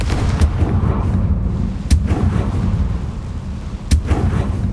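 Confringo fire spells blasting in the Hogwarts Legacy video game: a few sharp, loud booms go off about two seconds apart over a rumbling background.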